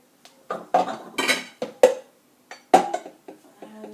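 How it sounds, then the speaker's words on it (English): A bowl is fetched in a home kitchen while a carrot and fennel salad is prepared: a string of separate dish and cutlery clinks and knocks, close and moderately loud, with quiet gaps between them. "I'm just gonna get a bowl for this"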